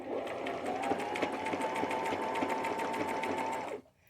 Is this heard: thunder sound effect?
no